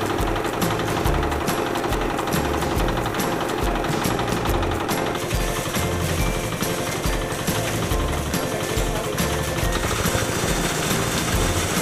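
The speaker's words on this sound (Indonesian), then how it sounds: "Mesin huler di Desa Bojong Manggu" A huller machine runs steadily in a village rice-processing setting in Bandung, Indonesia, giving a loud, dense mechanical clatter with a continuous rhythmic pounding, close by and unbroken throughout, with no voices.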